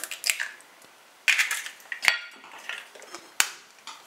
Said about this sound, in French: Nous allons casser les 6 œufs